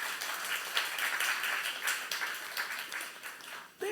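A church congregation claps together, dense steady applause from many hands for a few seconds before stopping abruptly.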